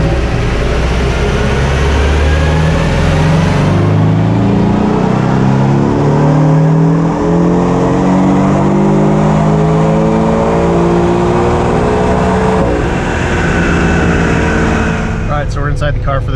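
A Porsche 718 Cayman 2.0T runs in third gear on a dyno at full throttle from about 2,500 RPM toward its 7,000–7,200 RPM redline. The engine note rises steadily and loudly, then cuts out near the end.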